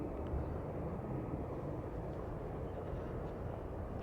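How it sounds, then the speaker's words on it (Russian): A distant airplane passes over Bishkek as a faint, steady, low rumbling drone that spreads evenly across the open city air, with no voices. "В той стороне слышу звук самолета."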